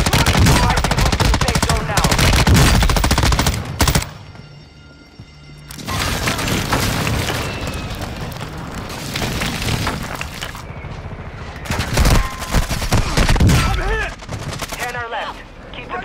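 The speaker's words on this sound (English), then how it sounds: "Hostile airstrike incoming." Airstrike explosions and gunfire in the Call of Duty Warzone video game: loud, dense bursts of rapid shots and booms, a quieter lull, then another heavy volley near the end, with no talk.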